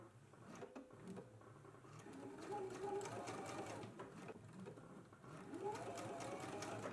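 Sewing machine basting lace in place, a steady rapid mechanical whirr with stitching rhythm, running continuously up close and alone.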